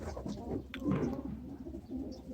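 Pigeons coo softly and continuously nearby, low murmuring calls overlapping with a bit of faint rustling.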